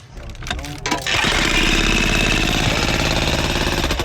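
A power drill bought by rescue volunteers in Venezuela runs loud and steady after a brief start, with a continuous grinding mechanical drone and a faint voice early on.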